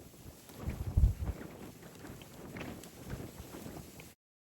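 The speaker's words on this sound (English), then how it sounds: "Oh, it's very windy." Strong gusty wind on the exposed hilltop of Long Mynd in the UK, buffeting the microphone with low rumbling thumps and rustling flaps, loudest near the start, then a low steady rush before cutting off.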